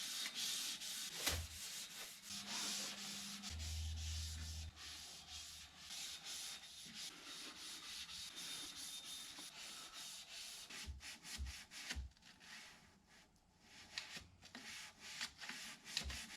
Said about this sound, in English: Need to pull everything back out, and we can start scuffing and finally get the cage painted.